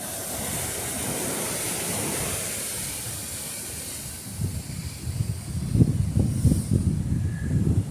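Heavy ocean surf breaks close by in deep water, a steady roaring hiss that swells into louder rumbling crashes toward the end, with no voices.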